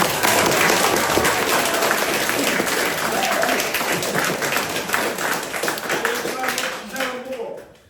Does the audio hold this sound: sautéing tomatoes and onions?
no